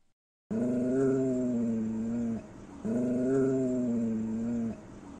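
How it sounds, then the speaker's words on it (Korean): A dog growls low and steadily in two long, rumbling bursts with a short pause between, close and fairly loud. "몽실이도 낮게 으르렁거리며 경계했어요"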